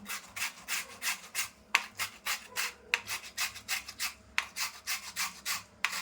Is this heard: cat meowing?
no